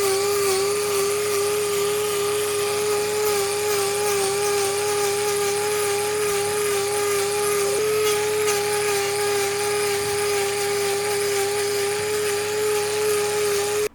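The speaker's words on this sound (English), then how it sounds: "we started by dropping as much of that hoof as we could with the angle grinder" An angle grinder trims a cow's overgrown hoof, a loud, steady high-pitched whine with a constant tone that runs without pause from start to finish.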